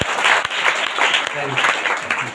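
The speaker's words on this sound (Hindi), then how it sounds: "जोरदार ताली से धन्यवाद करिए" Church congregation at a Sunday prayer service clapping together in thanks, a dense continuous wash of many hands with a few voices mixed through it.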